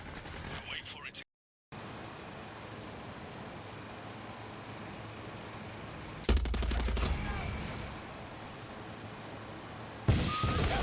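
Gunfire from the video game Horizon Forbidden West: a steady bed of game ambience broken by two loud, abrupt bursts of shots, the first a short rattling volley and the second a sharp blast near the end.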